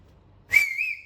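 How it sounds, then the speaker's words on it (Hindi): A man whistles a single short note that rises and then holds steady, clear and close, with no other sound. "वहां खड़े होकर सीटी बजाना सीखते थे"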